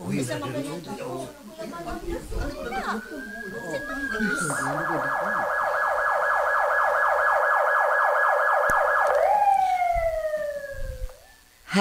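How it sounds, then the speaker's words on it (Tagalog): Ambulance siren wails in steadily from about four seconds on, a loud sustained pulsing tone that bends downward near the end, following frantic talk and then continuing beneath it. "niabot ang ambulansya"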